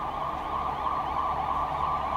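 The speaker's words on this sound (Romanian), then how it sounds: "ambulanța asta o vezi?" An ambulance siren wails steadily outside, a continuous loud electronic tone holding throughout with faint traffic rumble beneath and no talking.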